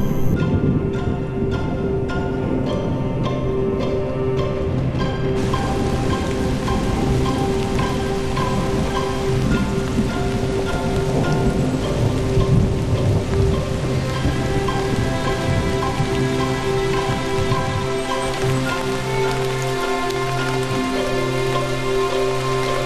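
Steady rain pours on surfaces through a Southern European summer shower, a dense continuous hiss with layered droning tones underneath; no distinct thunder crack stands out.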